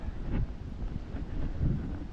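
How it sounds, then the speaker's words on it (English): Wind gusts buffet the microphone in low, rumbling bursts during a very cold night walk in Maine, steady and close, with no other clear sounds. "Pretty windy."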